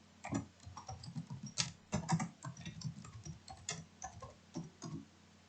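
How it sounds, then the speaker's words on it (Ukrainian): Fingers type text on a computer keyboard, producing a quiet, irregular run of light clicks and taps close by, with no voices. "У відповідне поле вводимо текст."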